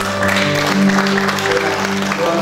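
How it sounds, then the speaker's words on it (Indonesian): Applause from a crowd at a wedding blessing ceremony rises under a steady hum of background music, lasting only a couple of seconds. "Boleh kita tepuk tangan?"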